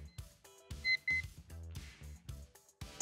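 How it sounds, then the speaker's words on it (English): A kitchen-style timer goes off with a short run of bright electronic beeps, close and moderately loud, broken up by clattering and bumping sounds over roughly three seconds. "Timer has gone off."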